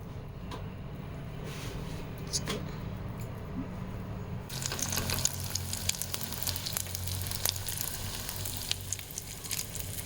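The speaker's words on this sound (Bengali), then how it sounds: "আমার তেল গরম হয়ে গেছে ব্রেড ক্রামস দিয়ে ভালো করে কোট করে নিয়ে এটাকে এবার আমি ফ্রাই করবো" Breaded chicken pieces fry in hot oil for a crispy chicken sandwich, giving a steady close sizzle that swells louder and brighter about halfway through as more crackling oil joins in.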